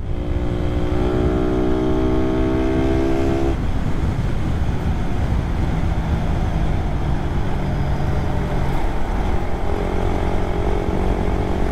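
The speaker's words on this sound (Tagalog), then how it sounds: "Sarap ang motor!" A Raider 150 carburetor motorcycle on the road to Batangas, its engine droning loud and steady under wind rush as it accelerates and cruises, with no talk.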